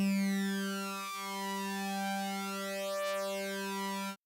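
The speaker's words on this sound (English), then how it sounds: "Notice when the unison voices are synced, you can hear the synced nature of the voices" A synthesizer tone built from unison voices with synced start phase holds a steady, buzzy harmonic pitch for about four seconds, with a slow, gentle phasing sweep before it stops abruptly.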